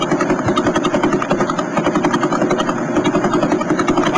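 A pulsar radio signal: a rapid, steady thumping pulse like a rotor chopping the air, loud and continuous throughout, with no voices over it.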